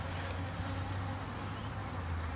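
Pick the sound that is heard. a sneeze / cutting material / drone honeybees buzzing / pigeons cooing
drone honeybees buzzing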